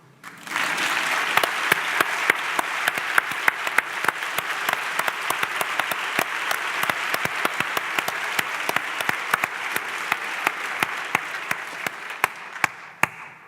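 Sustained audience applause in a conference hall during a public conversation. Many hands clap in a steady, full roar for over thirteen seconds, with occasional sharp individual claps standing out near the microphone.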